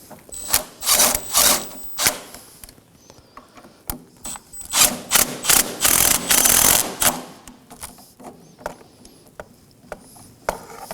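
A ratchet snugging down two 14 mm bolts on an engine mount of a 2014-2020 Acura MDX, close clicking bursts in several quick runs with pauses between, then scattered lighter metallic taps.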